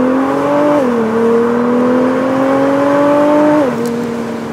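A Nissan GT-R R35 engine revs loud and close, its steady droning tone stepping down and holding as the revs shift, with no voices over it.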